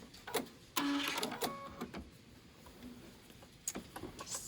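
A sewing machine stitches fabric to the corner of a carry-all organizer, running in short whirring bursts with pauses and clicks, fairly quiet and close.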